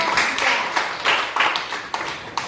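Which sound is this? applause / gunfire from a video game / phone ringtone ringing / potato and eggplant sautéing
applause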